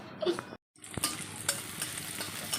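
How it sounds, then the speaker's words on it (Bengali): Onion and dried red chili tempering sizzling in hot oil for dal, a steady close frying hiss with a brief gap and a few stirring clinks, no talk. "আজকে হচ্ছে পেঁয়াজ ফোড়ন দিয়ে ডাল পেঁয়াজ আর শুকনো লঙ্কা দিয়ে"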